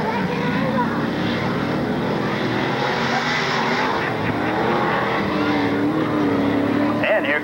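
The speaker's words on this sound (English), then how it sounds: "Bill Grabowski running in fourth place there with his new Chevelle." Race cars roar around a 1992 SODA Class 6 off-road track at Bark River, Michigan, including a new Chevelle, their engines a steady loud drone with a commentator talking over them.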